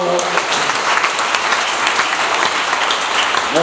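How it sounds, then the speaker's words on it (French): Congregation at a church service applauding together, a dense, steady wash of clapping that stays loud and even from start to finish, with a few voices faintly mixed in. "Et applaudissez-vous"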